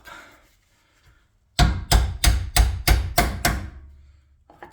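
A hammer strikes a tie rod bolt on a Jaguar XK X150's rear suspension seven times in an even rhythm, sharp metallic knocks close by after a quiet start.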